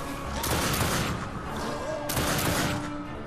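Gunfire in the video game The Darkness II, with sustained bursts of shots over a dense, loud game soundscape and a couple of sharper volleys standing out.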